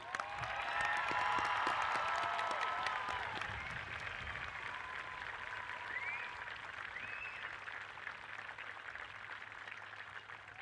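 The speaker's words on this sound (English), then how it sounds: "Let's give them all one big round of applause," Applause from a large crowd at a high school graduation ceremony, steady dense clapping that is loudest at first and then continues at a slightly lower level, with a few faint whistles and cheers.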